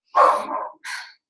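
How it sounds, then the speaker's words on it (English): A dog in the background gives two sharp, close barks indoors, a longer one followed by a shorter one, with silence around them. "You're going to have to excuse my dog in the background."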